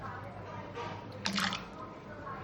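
Small diced potatoes tipped into water and rinsed for a potato bhaji, giving a brief splash and sloshing burst midway against a low, steady room background.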